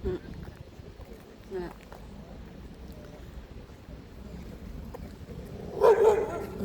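Dog barking on a windy outing in the town of Angoulême, a short loud burst near the end over wind noise and low background rumble.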